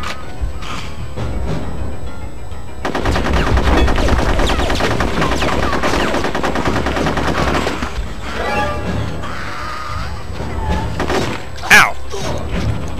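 Gunfire in Conker's Bad Fur Day: steady, dense shooting and impact clatter across the stretch, loudest in the middle, with scattered thuds, a shattering crash and a sharp bang near the end.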